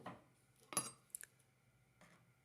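A metal lid set onto a pot of rice for zarda, giving a few soft, close metallic clinks and taps in an otherwise quiet room.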